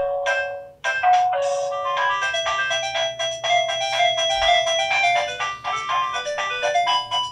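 A GazingSure smart WiFi video doorbell chime plays a bright, electronic melodic ringtone, a rapid run of tuned tones repeating steadily for several seconds, close and fairly loud with no talk.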